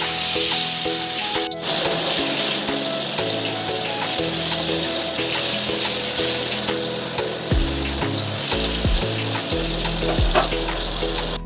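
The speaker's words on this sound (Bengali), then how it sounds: "এবার হালকা করে ভেজে নেব" Pointed gourd (potol) pieces coated in salt and turmeric fry lightly in a pan of hot oil, giving a steady close sizzle that runs unbroken, with faint stirring and spatter underneath.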